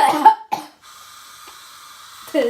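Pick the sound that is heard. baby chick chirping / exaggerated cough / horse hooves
exaggerated cough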